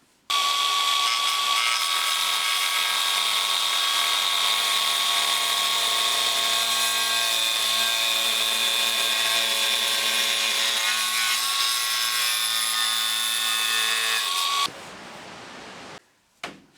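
A Dewalt DCG412 18V XR cordless angle grinder runs close by with a loud, steady high-pitched whine for about fifteen seconds, then winds down and cuts off.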